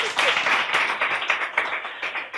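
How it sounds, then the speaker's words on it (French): An audience claps steadily for a performer at a public event, a dense patter of many hands sustained throughout with only a faint murmur of voices underneath. "on applaudit encore pour lui"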